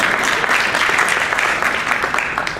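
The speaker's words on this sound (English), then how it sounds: "we have a round of applause for her as well." An audience breaks into sustained applause for Ms. Christina Romo at a school welcome event, steady dense clapping filling the room for a few seconds and easing slightly at the end.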